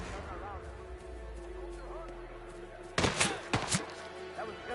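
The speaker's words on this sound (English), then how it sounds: "That was gunshot." Gunfire in a video game: a quick burst of several sharp shots in the second half, loud over a low game soundtrack and ambient hum.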